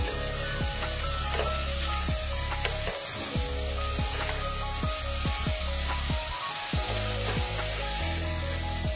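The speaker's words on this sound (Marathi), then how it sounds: "कोथिंबीर घालून घेऊया, छान धुतलेली, धुवून बारीक चिरून घेतलेली आहे, ती घालूया त्याच्यात। आपण परतून घेऊया।" Washed, finely chopped coriander sautés in a hot pan with a continuous close sizzle, broken by scraping, clicking stirs of a spoon throughout and no voices.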